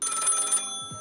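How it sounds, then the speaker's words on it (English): A telephone bell rings in a quick rattling burst for most of the second, then cuts off, loud and close, with no talk over it. "the phone do be ringing though"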